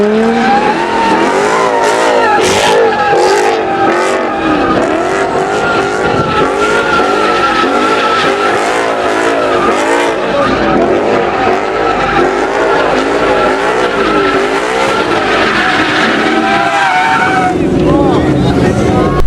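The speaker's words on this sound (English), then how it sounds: "I did a whole bunch of drifting." A Ford Mustang on worn Toyo Proxes R888R tires drifts hard, its engine roaring loud and close with continuous screeching tire squeal and skidding that barely lets up through the whole stretch.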